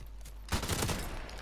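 Pistol gunfire in the video game Modern Warfare Remastered, a burst of several sharp, loud shots crowding together midway through after a quieter stretch of background game noise.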